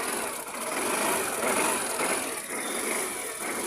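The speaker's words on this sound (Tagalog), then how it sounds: "Kung papaandarin natin, aandar naman siya." Fuel-injected motorbike engine running steadily at idle after starting, a close, continuous buzzing hum with no talk over it.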